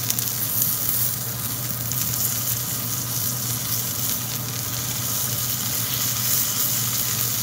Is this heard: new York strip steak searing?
yes